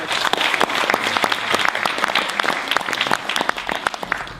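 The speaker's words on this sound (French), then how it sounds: "Merci sous vos applaudissements, s'il vous plaît." Audience applause in a Paris hall at the opening of a Creole culture festival: dense, close clapping with sharp individual claps standing out, steady for a few seconds.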